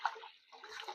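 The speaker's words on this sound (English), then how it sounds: "Pouring it in the pan, a whole gallon of raw milk" A gallon of raw milk pours into a pan for homemade mozzarella, a faint, soft liquid splash and gurgle that briefly pauses and resumes.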